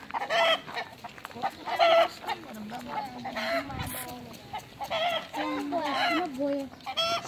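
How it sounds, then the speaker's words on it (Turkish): A rooster crows and hens cluck repeatedly nearby at an open-air village museum near Ankara, with people talking quietly in the background. "Horoz bu."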